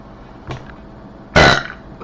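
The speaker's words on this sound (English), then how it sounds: "Ooh, good burpage." A woman lets out a loud, close burp, a short deep rumbling belch after a faint earlier one.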